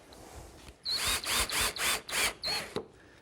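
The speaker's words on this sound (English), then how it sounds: "go down the other end and secure it with a screw" A power drill drives a screw into wood while a flagpole jig is built, with five short close whirring bursts separated by brief pauses.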